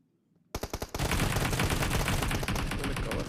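Video-game gunfire bursts suddenly after a quiet moment: a few sharp separate shots, then dense continuous automatic fire that stays loud and close to the end.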